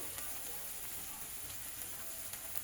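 Ground turmeric and cumin sizzle in hot oil in a pan while being fried for a banana-flower dish. A steady, close, broadband hiss carries on without a break, and no one speaks.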